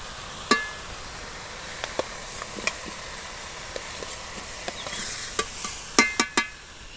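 Potatoes frying in hot spice masala with oil in a pan, a soft continuous sizzle broken by scattered scraping and stirring knocks, a cluster of sharper clacks near the end.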